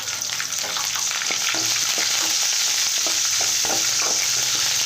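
Ginger, green chillies, garlic, dried red chillies and curry leaves fry in hot oil for a South Indian curd rice tempering, giving a steady close sizzle with faint stirring scrapes throughout, no talking.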